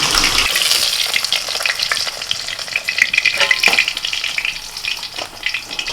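Mustard seeds and green chili tempering in hot oil for a chutney, a close crackling sizzle with irregular pops and spatters throughout.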